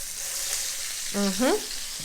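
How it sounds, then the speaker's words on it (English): Onions sautéing in hot oil over a medium flame, a steady bright sizzle filling the pan with a brief tonal scrape or squeak partway through, close and alone. "we are going to saute our onions and allow them to break down just a bit"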